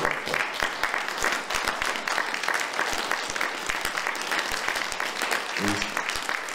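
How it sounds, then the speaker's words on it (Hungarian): Audience at an evening talk in Fonyód applauding a guest speaker, a steady, dense clapping that holds evenly throughout, with a brief voice near the end. "egy nagy tapsot kérünk vendégünknek"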